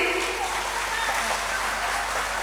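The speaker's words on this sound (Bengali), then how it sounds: "মায়েদের করতালির আওয়াজটা ভালো আছে কিনা একটু দেখে নি" Dense, steady handclapping from a group of women at a Bengali devotional kirtan, with a bhajan in progress; the clapping runs continuously through the short stretch, close and fairly loud.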